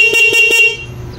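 A Honda Wave 100 motorcycle's dual PIA horn honks three times in quick, evenly spaced bursts, close and loud, then falls silent.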